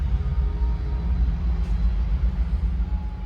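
Nissan Skyline Kenmeri GT-R engine in a sim racing game, a steady low rumbling drone held at constant level without talk.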